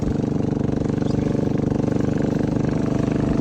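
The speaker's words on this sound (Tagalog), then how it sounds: "May sakay-sakay silang motor." A steady, loud motorcycle engine drones close by, its low chugging rumble continuous throughout with no talking.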